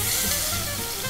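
Water hits a hot pan of browned onions with a loud, continuous close-up sizzle that fades slightly toward the end, with no talking.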